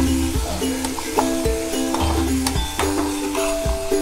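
Turmeric and salt fry in hot oil with onion in a pan, a soft continuous sizzle broken by a few scraping stirs and light clinks of a utensil, close and moderately quiet.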